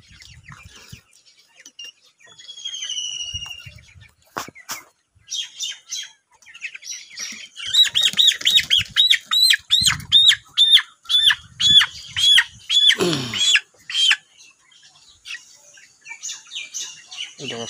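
Farm chickens raised on fermented corn feed squawk and cluck while being picked up and weighed, with sharp repeated calls growing busier midway, alongside handling noises and no clear talk.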